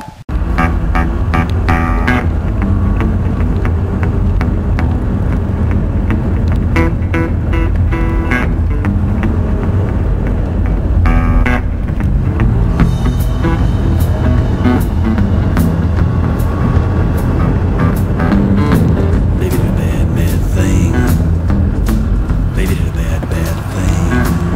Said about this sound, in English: we're going to get in the car now and go up to Le Dôme